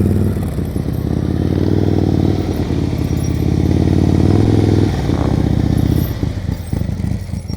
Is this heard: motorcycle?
yes